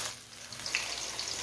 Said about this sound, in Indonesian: Kita goreng sampai warnanya berubah kuning ke kemasan ya, atau matang sampai dalam ya